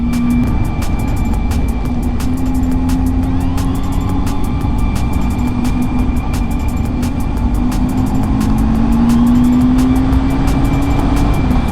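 A motor scooter rides along a road through pine forest near Vilnius, its engine a loud, steady drone under constant wind rush for the whole stretch.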